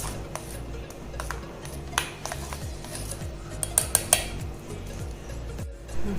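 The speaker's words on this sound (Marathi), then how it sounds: "मिक्स करून घेऊयात।" Crushed cashews and almonds being stirred into a mango kulfi mixture in a kitchen, with a spoon scraping and clinking against the bowl in a steady run of small taps and a few sharper clinks.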